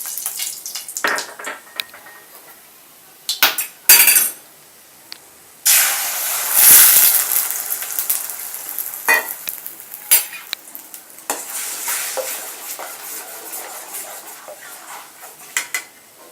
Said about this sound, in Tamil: இந்த மாதிரி கண்டினியூஸாக கிண்டிக்கிட்டே எக்கை வந்து கொஞ்சம் தனியாக செப்பரேட்டாக எக் புர்ஜி மாதிரி கொஞ்சம் ரெடி பண்ணுங்க.